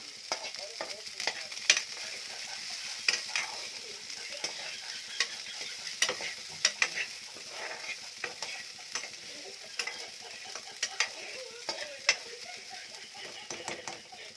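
Oil frying in a pan while being stirred, a soft, continuous sizzle broken by frequent clicking scrapes of a spoon against the pan.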